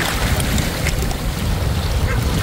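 Sea waves wash against the shore along Boulevard Road in Masbate City in the afternoon, a steady, loud roar of surf mixed with heavy wind buffeting the microphone and no distinct break.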